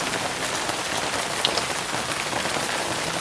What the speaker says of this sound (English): Oh, you can see the rain. Look at it. It's coming over the trees.